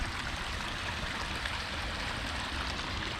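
Water from a spring flows steadily in a nature park, a constant close rushing wash with no voices over it.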